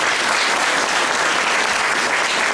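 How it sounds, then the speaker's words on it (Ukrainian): Steady, dense audience applause filling a hall at a children's music school event, continuous and loud throughout without pauses. "Привітаємо їх оплесками, будь ласка."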